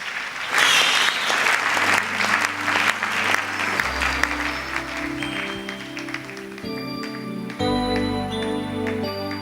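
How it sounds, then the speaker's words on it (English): A pageant audience at Miss Universe Sri Lanka 2011 breaks into a loud, sustained round of applause that carries on steadily beneath stage music. "ladies and gentlemen, please give them a huge round of applause"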